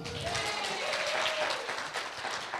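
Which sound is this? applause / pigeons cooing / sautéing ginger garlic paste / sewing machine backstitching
applause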